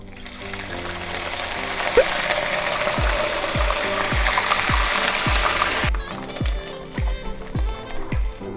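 Steady crackling sizzle of starch-coated salted fermented shrimp frying in hot oil, with a rhythmic series of low thumps running through the second half; no talking.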